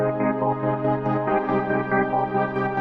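Synth strings programmed on an MPC Live 2 with a 3-step LFO and a short envelope, playing a sustained chordal pad that pulses in a steady stepped rhythm, moderately loud and alone.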